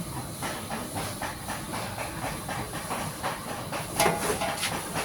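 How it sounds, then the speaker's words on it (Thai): A pot of offal boils hard on a stove, a constant close hiss of steam with rhythmic bubbling pulses and a brief louder burst near the end. "ต้มเครื่องในอุ้ยใกล้ไปแต่มองไม่เห็น ฝาก็ร้อนค่ะ เดือดปุดๆๆเลย"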